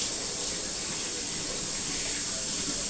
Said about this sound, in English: so I'm going to wash my hands again